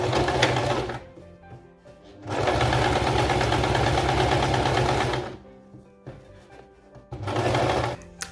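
A sewing machine runs a topstitch along a seam of a plaid circle skirt in three loud, steady bursts, with short, quieter pauses between runs.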